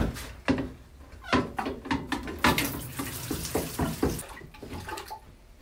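Water splashing and running in bursts while a woven geotextile specimen is back-saturated in a permeability test holder, with irregular pours and knocks of moderate loudness.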